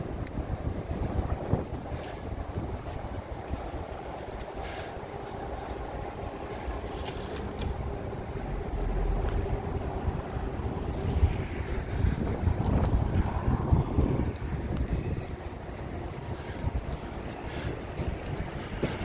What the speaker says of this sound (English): Super windy here though. Can you hear the wind?